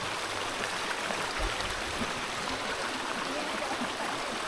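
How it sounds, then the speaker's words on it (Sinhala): A small stream of water flows beside a woodland path at a picnic area, a steady broadband rush of moving water that stays even and moderately loud throughout with no talk over it. "මේ පොඩි මේ වතුර පාරත් එක්කමයි."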